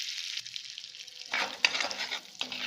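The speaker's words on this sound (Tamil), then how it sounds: "இதே பேனில் இன்னும் கொஞ்சம் பட்டர் சேர்த்துக்கலாம். பட்டர் நல்லா மெல்ட் ஆகட்டும்." Butter melting and sizzling in a pan while cooking matar paneer, a soft crackling fry with several louder sputtering bursts, close and alone without voices.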